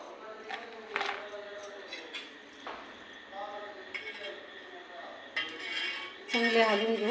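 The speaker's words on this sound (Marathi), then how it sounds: "चांगले हलवून घेऊ." A spoon stirs kadhi, a buttermilk curry with salt just added, in a metal pot, giving close, irregular clinks and scrapes against the pot's sides while a voice talks over much of it.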